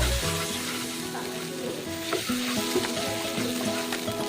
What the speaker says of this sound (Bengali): আরেকটু মশলাটাকে ভালো করে কষানোর জন্য একটু লিকুইড দুধ অ্যাড করছি নারকেলের দুধ যেটা করে রেখেছি পাতলা দুধটা